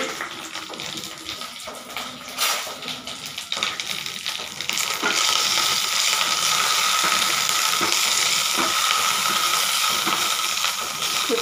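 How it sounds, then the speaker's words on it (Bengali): Sijir pithe fries in a pan with a steady sizzle that swells louder and denser partway through and then holds, with no voices. "একটু ভালো করে ভেজে নিতে হবে।"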